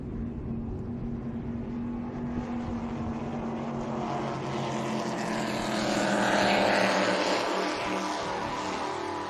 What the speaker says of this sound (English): The 300 V8 Mercury 4-stroke outboards